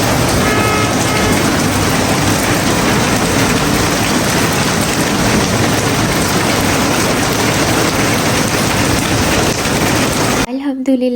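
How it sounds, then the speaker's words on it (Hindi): Heavy rain pours down on a rainy day as a dense, loud, continuous hiss that stays even throughout and stops abruptly near the end. "इतनी प्यारी बरसात हुई, इतनी प्यारी बारान बरसी"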